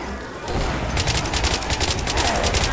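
Left 4 Dead 2 survival round with the team shooting at the Tank, rapid automatic gunfire with sharp evenly spaced shots starting after a moment and continuing loud and close.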